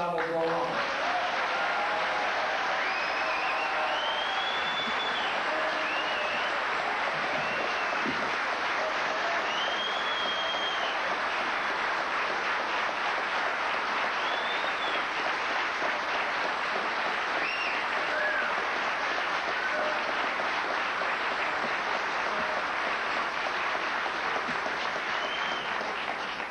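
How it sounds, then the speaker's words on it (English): Sustained, dense applause from a large lecture audience fills the room steadily for nearly half a minute, with scattered voices and cheers mixed into the clapping. "If you give me a generous round of applause, I will go on."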